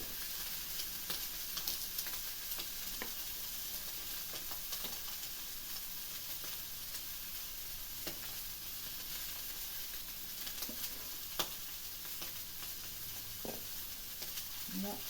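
Garlic sizzling in a pan of oil for tomato sauce, a steady close hiss with occasional light stirring clicks.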